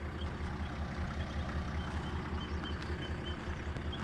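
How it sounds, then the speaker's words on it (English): Trucks idle out beyond the trees on an outback road, a steady low diesel rumble with a faint throbbing pulse running evenly throughout, moderately distant, with no voices. "Trucks just idling away there."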